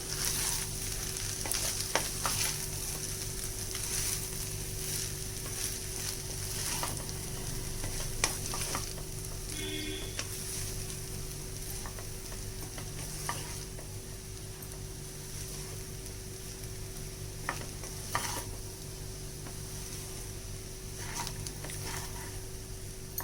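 Continuous soft scraping and light sizzling as tomato rice with coriander is stirred in a pan, with occasional sharper taps over a steady background hum.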